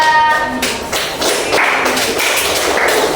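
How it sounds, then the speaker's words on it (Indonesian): Classroom applause for a student group during a microteaching session, a burst of hand clapping that fills the room and carries on steadily for a few seconds. "beri tepuk tangan untuk kelompok 2"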